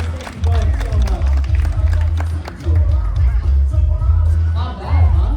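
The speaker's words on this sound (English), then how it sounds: "a round of applause for the volunteers" Audience at a live pogo stick stunt show applauds the volunteers, with a dense wash of clapping and crowd noise beneath a loud low hum, while someone talks over it throughout.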